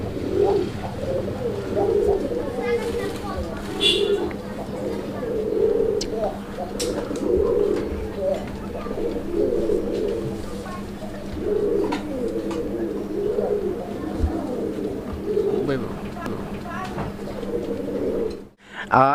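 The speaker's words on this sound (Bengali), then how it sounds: "এটা হচ্ছে আপনার মাদ্রাজি গোল্লা কবুতর" Madrasi Golla domestic pigeons coo in steady repeated low phrases from close by, over a constant low hum, with faint chirps in the background and no talking.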